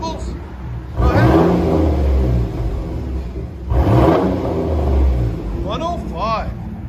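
A Chevy S10 with a 4.3L V6 and straight pipe exhaust revs hard twice, each blip a loud rising roar that falls back to a rough idle, followed by quicker engine blips near the end.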